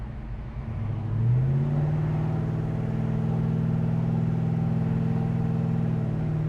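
A 1970 Chevrolet Chevelle SS accelerates while driving, its engine rising quickly to a steady, loud, close rumble that holds for several seconds.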